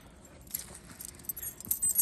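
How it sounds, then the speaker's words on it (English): Keys on a ring jangle and clink close by as the trunk of a 1979 Cadillac that sat for 27 years is opened, with bright, irregular metallic rattling that grows busier toward the end. "We'll get the keys here and open the trunk."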